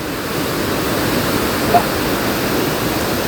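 Steady rushing water pours down from a dam, a broad, even roar with no breaks, fairly close and unchanging.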